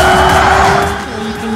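Race car tires squeal loudly and continuously while drifting around a corner in the Xenon Racer video game, with the engine droning underneath and the screech easing slightly toward the end.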